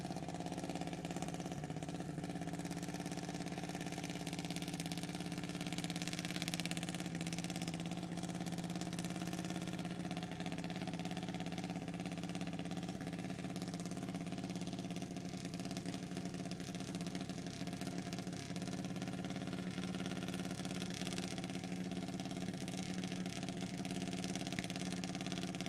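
Drag racing cars idling at the starting line of an open drag racing event, a steady low engine rumble holding continuously, fairly distant and quiet, with no talking.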